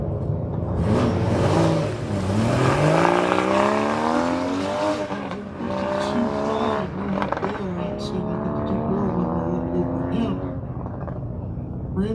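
A Mazda Miata engine revs and rises in pitch through repeated acceleration runs on an autocross course, close and loud with tire noise, while an announcer talks over it.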